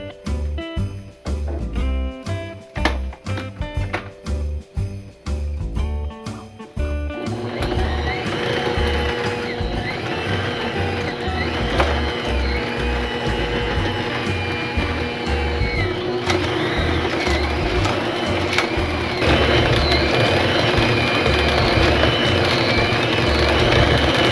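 An electric mixer creams brown sugar into butter, starting with rapid rhythmic clattering beats before settling into a loud, continuous motor whir close by, with no talk.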